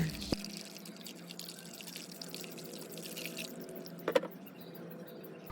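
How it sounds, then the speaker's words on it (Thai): Remaining limewater poured into a smooth flour batter for a pandan dessert, a soft continuous liquid pour and trickle close by, with a couple of faint knocks near the end. "ใส่น้ำปูนใสที่เหลือลงไปทั้งหมดได้เลยค่ะ"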